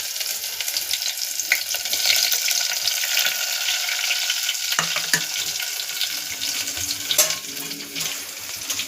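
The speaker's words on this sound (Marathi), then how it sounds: "तर इथे आपल्याला कांदा छानपैकी असं लालसर होईपर्यंत भाजून घेणार आहे मी" Onion frying in a pan for a drumstick curry, a dense, hissing sizzle that runs throughout, close and fairly loud, with occasional stirring knocks and scrapes of a utensil and no talking.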